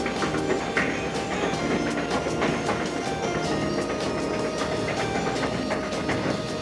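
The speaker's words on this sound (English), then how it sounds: "Here's a train pulling tanks of liquid fuel." A freight train hauls tanker cars of liquid fuel past, a loud steady rumble with rhythmic wheel clatter and metallic rattling throughout, close by and without talk.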